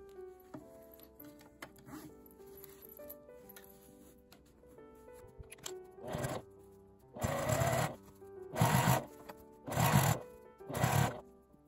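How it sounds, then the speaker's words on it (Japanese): A sewing machine edge-stitches a fabric wallet bag. It hums quietly at first, then runs in four or five short, fairly loud bursts of stitching with brief pauses between them. "表に返して端ミシンをかけます"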